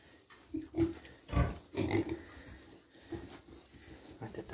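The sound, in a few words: pig grunting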